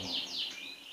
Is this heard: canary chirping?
yes